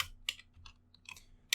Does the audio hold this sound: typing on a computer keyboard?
yes